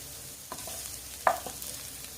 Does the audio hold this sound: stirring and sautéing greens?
yes